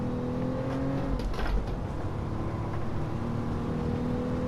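Car engine in Gran Turismo 7 with an H-pattern manual gearbox and no modifications, droning steadily at high revs with a brief dip and surge as a gear changes partway through, loud and continuous.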